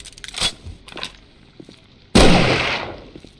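A gun fires in the survival video game 7 Days to Die, with a few light thuds and clacks leading into one loud, close blast that rings out and decays over about a second. No voices.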